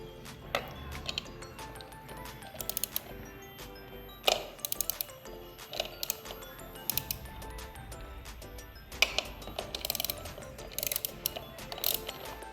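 Ratchet screwdriver clicking as screws are loosened on an Apache motorcycle, a steady run of close metallic ratchet ticks with sharper clinks at intervals, with no talking.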